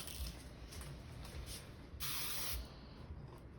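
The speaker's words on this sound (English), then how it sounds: "And then I would give it one more spray" A single aerosol can of hairspray sprays onto hair in a faint, close hiss with a brief stronger burst in the middle, preceded by soft rustling; no one talks.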